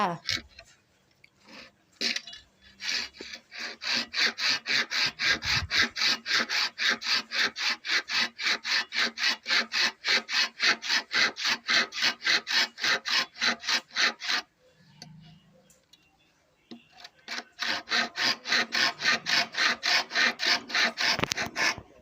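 Steady back-and-forth hand sawing through a hollow bamboo pole, rapid rhythmic rasping strokes that pause briefly midway and then resume, close and loud.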